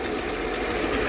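A multistage motor pump's electric motor runs under heavier load while pushing more than 5,300 litres of water, giving a steady, continuous mechanical hum with a faint rattling vibration, close and unbroken throughout.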